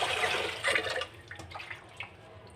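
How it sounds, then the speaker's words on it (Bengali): Dried fish (shutki) being rinsed in water in a home kitchen: a splashing, running-water wash up close for the first second, then lighter drips and small sloshes trailing off. "এখানে আমি শুটকিটা এখন ধুয়ে নিব।"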